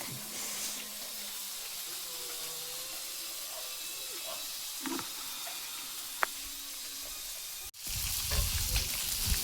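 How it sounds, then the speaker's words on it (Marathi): Fish frying in a pan at a riverside outing in a village: steady, close sizzling and hiss throughout, growing louder and more crackly near the end, with faint voices in the background. "मस्त मासे तळते इकडे"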